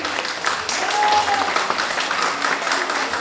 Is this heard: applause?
yes